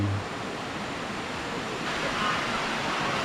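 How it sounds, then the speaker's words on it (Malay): River water rushing over rocky rapids at a Malaysian jungle campsite, a steady, loud, broadband roar that fills the whole stretch without a break. "Air sungai memanggil-manggil."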